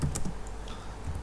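Someone types code on a computer keyboard, a short run of soft, quick key taps at close range without talking.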